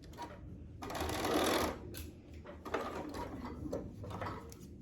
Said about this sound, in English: I just put a few basting stitches in a few like strategic locations